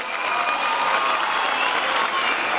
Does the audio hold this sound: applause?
yes